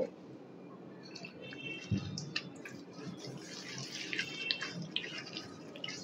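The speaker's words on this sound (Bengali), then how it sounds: "আরও একটু জল দিতে হবে।" Water poured little by little into mango malpua batter in a bowl, a soft trickle and splash with a few drips, faint and close, with no talking.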